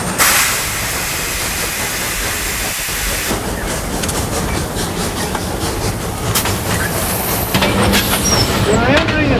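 A steam locomotive pulls a passenger train up a steep grade, roaring with loud continuous hiss and rumble, rhythmic chuffing and clattering wheels, a brief lull partway through, then a high squeal near the end.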